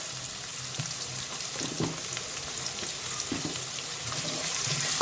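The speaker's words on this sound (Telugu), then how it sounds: "ఓకే, ఆనియన్స్ ఫ్రై అవ్వాలండి ఇవి." Chopped onions fry in a pan with a light sprinkle of salt, giving a steady close sizzle with occasional stirring scrapes and a faint watery hiss, growing slightly louder toward the end.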